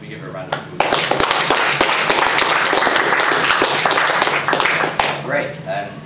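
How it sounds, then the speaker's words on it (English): An audience applauds the speaker Rosie Woodbridge at a talk: a dense, steady wash of many hands clapping starts abruptly, holds for a few seconds, then tapers off. "can we give her a round of applause?"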